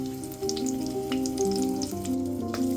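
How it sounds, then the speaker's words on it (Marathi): Asafoetida and turmeric crackle and sizzle in hot oil for a kadhi tempering, with steady close spitting beneath sustained background music. "आता यामध्ये घाला हिंग आणि हळद।"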